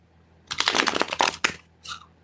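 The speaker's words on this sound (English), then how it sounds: "So let's shuffle some more." Tarot cards are shuffled by hand in a quick riffling burst of about a second, close and crisp, then a brief soft flutter follows after a short pause.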